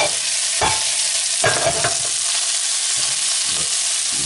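Shrimp sear in hot olive oil with a loud, continuous sizzle, broken by a few bursts of scraping and stirring in the pan nearby.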